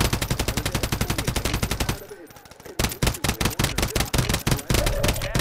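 Rapid automatic gunfire in a Call of Duty match, a steady fast stream of sharp shots, a brief pause, then more bursts, loud and close with little talk.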